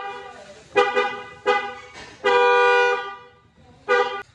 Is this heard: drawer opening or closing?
no